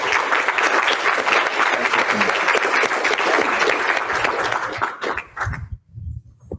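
Sustained applause from an audience welcoming the speakers at a medical grand rounds, dense and even for about five seconds before thinning out to scattered claps and quiet.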